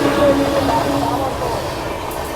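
The Patna–New Delhi Amrit Bharat Express passes at speed while overtaking on parallel track, a continuous rumbling rail roar with faint hiss, loudest at the start and easing slightly, no voices.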